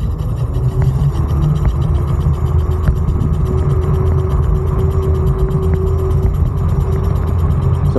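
Dual-motor NANROBOT Lightning 3.0 electric scooter riding at speed, a loud steady rumble of motor and wind noise with a rising whine, holding constant throughout with no clear braking point.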